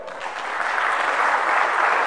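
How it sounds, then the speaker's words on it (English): A crowd at a hacker conference session claps to welcome a speaker, a short, even burst of applause lasting around two seconds with no voices over it. "So can I have a big round of applause, please, for Jacco?"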